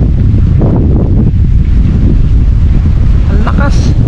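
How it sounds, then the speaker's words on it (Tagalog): Strong, steady wind buffets the microphone outdoors in open country, a constant roaring rush that fills the whole clip, with faint voices briefly audible beneath it. "Ang sarap ng hangin."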